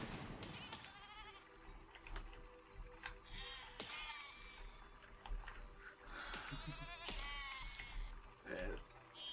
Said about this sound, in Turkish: Ve koyun var.